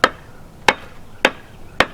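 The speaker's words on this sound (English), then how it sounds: "we're going to take a dead blow hammer and just" A dead blow hammer strikes the bottom of an upturned axe handle four times at a steady, roughly half-second pace, each blow a sharp, close, clean knock with no talking.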